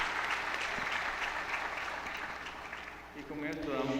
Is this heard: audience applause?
yes